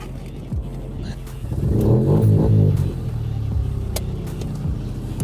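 A car rolls on bare rims without tires, its engine rumbling low and close, with a swell of revving and grinding near the middle and sharp clanks scattered through the drive.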